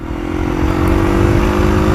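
Engine note of a 2019 Husqvarna FE250 off-road motorcycle being ridden, a steady buzzing drone that rises a little in pitch and holds loud and close-miked for two seconds, with no talk over it.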